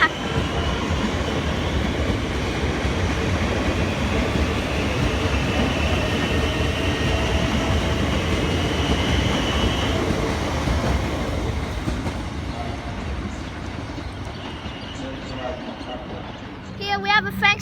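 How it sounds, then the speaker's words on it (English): A Siemens train departs Caulfield station in Melbourne, its heavy rolling rumble steady and close before easing off, with faint squeals near the end and a voice talking over it. "Siemens train now departing to Pakenham."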